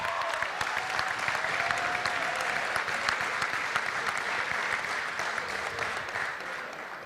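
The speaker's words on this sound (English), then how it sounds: "If we can give him a round of applause." Banquet audience at a high school football awards night breaks into sustained applause, dense steady clapping filling the room for several seconds before tapering slightly at the end.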